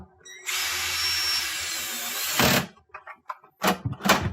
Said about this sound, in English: and we reinstall our 1/4 inch screw